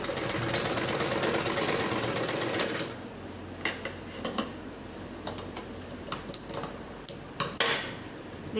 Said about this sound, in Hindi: इस तरीके से उठाते हुए मशीन को फिर दूसरी सिलाई लगा देंगे